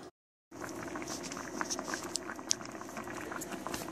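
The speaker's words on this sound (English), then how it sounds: "The mixture here is coming to a boil." Cream and garlic mixture boiling in a pot on the stove, a steady close bubbling and popping with small sharp blips after a brief silent start.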